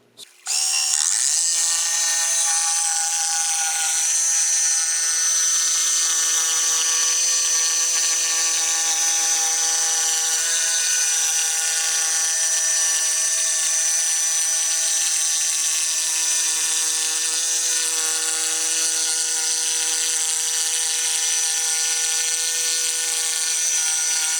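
A power tool runs steadily and loudly for the whole stretch while a wooden bar top is sanded, a constant close whine with tonal harmonics and no pauses.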